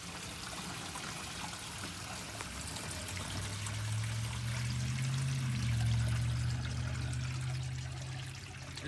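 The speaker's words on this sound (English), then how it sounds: "So let's let this drain, and we'll check the same thing." Water draining from a newly installed kitchen sink, a soft continuous gurgling trickle and rushing flow that swells midway and then eases, faint and steady with no voices.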